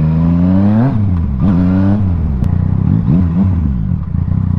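A 2020 Yamaha XSR900 motorcycle engine revs hard several times in quick succession, rising and falling in pitch, loud and close with a clattering idle between blips.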